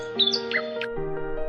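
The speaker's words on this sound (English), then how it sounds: "You can hear the birds singing sweet songs." Short, close chirps and tweets from songbirds, several bright calls in quick succession over a faint steady background tone.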